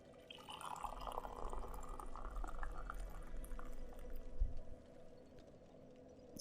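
Hot black coffee poured from a French press into a cup: a quiet, steady liquid trickle lasting a few seconds, close by, ending in a soft clunk and drips.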